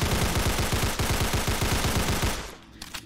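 Sten submachine gun in Fallout 4 fires a sustained rapid automatic burst at a Deathclaw, loud and close, with shots evenly spaced for about two and a half seconds before the burst cuts off into quieter tail noise.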